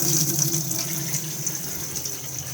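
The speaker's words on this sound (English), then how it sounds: "so if we now just come to the sink and just turn the tap on." Steady water streams from the tap into the sink inside a camper van, a constant close hiss and splash with a pump-like hum beneath, no talking.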